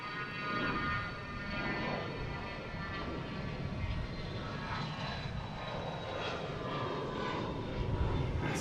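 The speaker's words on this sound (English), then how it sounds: "That's the citation latitude, heading out of here." A Cessna Citation Latitude business jet departs Boston Logan, its engine roar a steady, fairly distant rumble and whine that swells slightly near the end, heard alone.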